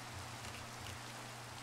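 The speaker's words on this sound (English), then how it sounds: "You're lucky it's raining." Rain falls steadily in Minecraft, a dense, even hiss of rainfall with a low hum underneath, continuous and unbroken.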